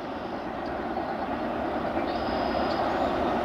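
A CSX coal train rolls past at close range, a steady, loud broadband rumble of freight cars and wheels on rail that holds level throughout, with faint high metallic squeals drifting in over the roar.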